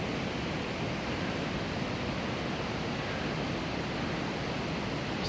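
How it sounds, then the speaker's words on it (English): Yosemite Falls on the John Muir Trail, a steady broadband roar of rushing water that holds constant and fairly loud throughout, with no talk over it. "It's the waterfall."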